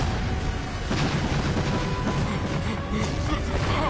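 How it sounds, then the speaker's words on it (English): Continuous rumbling booms and crashes of explosions from a Naruto Shippuden anime battle, with Jiraiya being bombarded; dense, loud, steady blasts filling the whole moment. "Ooh, explosions!"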